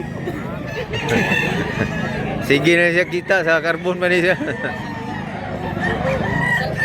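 A gamecock crows loudly at close range, one drawn-out warbling call in the middle of the stretch, while someone talks over it before and after, at a rooster market in Carbon, Cebu.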